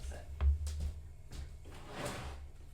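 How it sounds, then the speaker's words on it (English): An apartment room door is pushed shut with one soft, low thud, followed by faint room noise and a murmuring voice. "Let me just close my door a sec"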